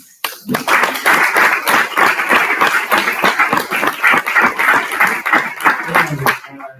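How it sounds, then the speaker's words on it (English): An audience applauds steadily for several seconds, dense clapping from many hands that fades out at the end. "How about a round of applause for our excellent panelists?"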